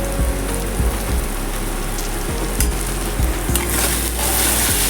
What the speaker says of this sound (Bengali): এটাকে আবারও খুব ভালোভাবে মিক্স করে নেব।